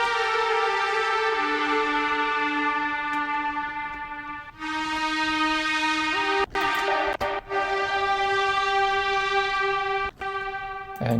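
An Ableton strings preset layered with the Serum Swim Lonely Saw synth holds long, steady chords that shift pitch in a few slow steps, a bright buzzing sustained pad with brief dropouts, loud and unbroken, with no voices.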